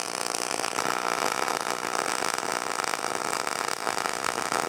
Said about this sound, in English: Can you hear my new air compressor?